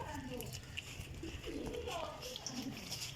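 Pigeons coo softly in a loft of flying pigeons, low rolling calls under someone talking steadily about the birds.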